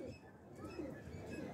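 Pigeons cooing in a small breeder setup of red-patterned pigeons with black wing markings, soft low coos repeating faintly at a close distance with no talk.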